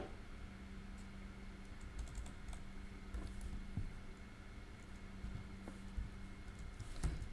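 Steady, fairly quiet keystroke clicks from a computer keyboard as code is typed for a platformer movement script, continuous over a low background hum with no talking.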